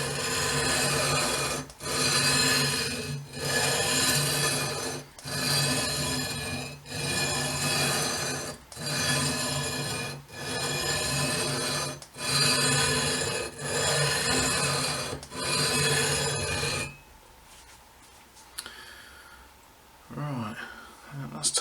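Guitar frets being levelled with a file, rhythmic back-and-forth rasping strokes in steady bursts, close and loud, then a quieter stretch with faint handling noise at the end.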